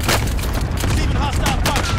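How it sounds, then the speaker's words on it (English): Cluster airstrike explosions rip through a video game battlefield as a rapid, dense string of booming blasts. Game radio chatter and voices sound over them. "Cluster strike is active."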